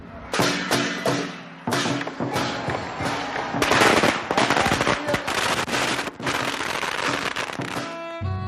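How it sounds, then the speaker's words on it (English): Rapid bursts of Chinese firecrackers explode loudly and continuously, crackling bangs piling on each other without pause. "that is the sound of the firecrackers."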